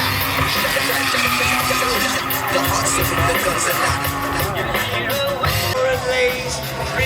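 Tires squeal and skid as a car drifts at a Drift and Shift UK event on Manston Airfield, engine noise and loud crowd chatter blending together in a dense, continuous roar.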